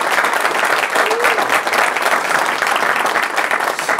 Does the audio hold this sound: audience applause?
yes